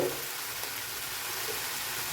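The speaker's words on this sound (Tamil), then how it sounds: "இது நல்லா ஆயிலில் ஒரு 5 நிமிஷம் ஃப்ரை ஆகட்டும்" Peanuts and dried red chillies sizzle steadily in hot oil in a pan, a faint, even crackling hiss with no voices.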